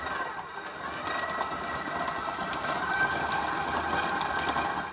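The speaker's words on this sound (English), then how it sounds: "you have to mix it for literally ever, like 10 minutes. So I do not recommend if you don't have a electric mixer." Electric mixer whipping royal icing, a steady motorized whir with a constant hum, fairly close and sustained for the whole stretch without speech.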